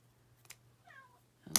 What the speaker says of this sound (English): I'm sorry if you hear a kitten in the back